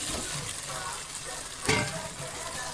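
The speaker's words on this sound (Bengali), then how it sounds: "এবার আমি আলুগুলো দিয়ে দেবো।" Potatoes go into spice paste frying in hot oil for a vegetarian aloo dum, giving a steady close sizzle with a sharp burst of louder frying midway as they hit the pan.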